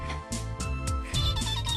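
A mobile phone ringtone plays a short repeating electronic melody, fairly quiet and alone, as an incoming call from the mother-in-law rings in a Hindi TV drama scene.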